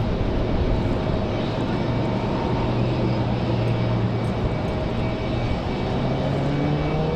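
A fixed-wing airplane takes off at Raleigh Durham airport, its engines producing a loud, continuous roar with a slowly rising whine that stays steady and dense throughout.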